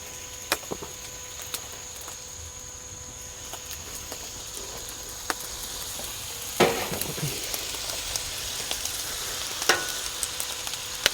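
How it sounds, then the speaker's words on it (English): Two eggs crack into a hot pan of hibachi-style chicken fried rice, joining a steady, soft sizzle with a few sharp clicks and taps, then a louder burst of frying as they hit the oil. "Just going to make a little pocket in the middle, and we're going to crack 2 eggs."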